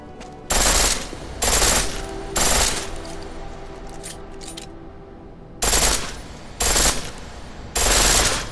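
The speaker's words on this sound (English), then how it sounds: "The pistol in full auto will take down targets fast, but it'll burn through your ammo." Full-auto pistol fire in Deus Ex: Mankind Divided comes in six loud, close bursts of rapid shots, each about half a second long, with quieter gaps between them.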